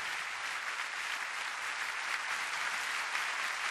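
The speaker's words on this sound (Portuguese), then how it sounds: "O vosso bem caloroso aplauso para a Orquestra Sinfonieta de Lisboa" Audience applause for the Sinfonieta de Lisboa orchestra at a live concert, a dense, even wash of many hands clapping that holds steady throughout at moderate volume with no voices.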